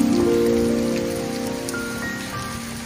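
Heavy monsoon rain pours steadily onto surfaces near an arched garden structure and a seedling bed, a dense continuous wash of drops that fades slightly toward the end.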